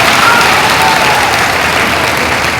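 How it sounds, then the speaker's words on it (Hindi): Loud, dense crowd applause fills a political gathering in Malegaon, Maharashtra, with steady clapping and no break for the whole stretch. "तालियां बजाकर स्वागत कीजिए।"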